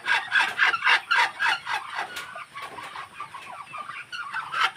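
A newly hatched chick peeps in quick repeated high chirps, loud and close at first, then softer and more scattered with other faint bird calls in the background.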